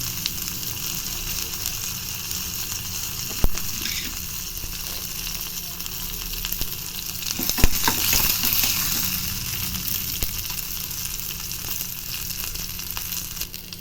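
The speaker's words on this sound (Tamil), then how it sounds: "அதுக்கப்புறமா கடலைப்பருப்பு போட்டுக்கலாம். அதுக்கப்புறமா இஞ்சி, பச்சை மிளகாய் போட்டுக்கலாம். நல்லா மிக்ஸ் பண்ணி விட்டுருங்க." Chana dal, ginger and green chilli frying in a pan while being stirred, giving a steady close sizzle with a few sharp clinks and scrapes of the spoon partway through; no one speaks.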